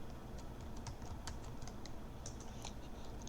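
Someone types a password on a computer keyboard, a steady run of light, quick key clicks at close range with no talking.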